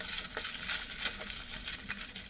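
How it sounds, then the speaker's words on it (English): Meat sauce with taco seasoning and bits of onion sizzles in a pan while being stirred, a loud close crackling hiss broken by repeated scraping stir strokes, with no one talking. "Let me stir it because it's starting to bubble"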